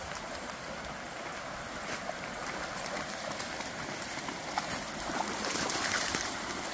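Lick Creek, a stream in Daniel Boone National Forest, Kentucky, flows with a steady broadband rush of water, close and continuous, swelling slightly louder near the end.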